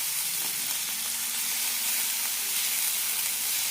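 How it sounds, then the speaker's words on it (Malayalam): Yam slices frying in oil on high flame, a steady, even sizzle and hiss, close and continuous with no talking. "ഹൈ ഫ്ലെയിമിലിട്ട് തന്നെയാണ് കുക്ക് ചെയ്തുകൊണ്ടിരിക്കുന്നത് ഇപ്പോൾ."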